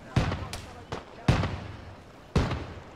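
Swivel guns fire in a naval battle video game, four sharp booming shots at uneven intervals, each with a short decaying tail over a low background.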